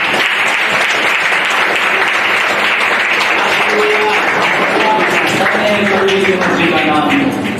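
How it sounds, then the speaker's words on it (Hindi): A church congregation claps steadily for Jesus during a Hindi Sunday worship service, dense sustained applause filling the room at a loud level, with a voice speaking and singing faintly over the clapping. "यीशु की ताली बजाइए"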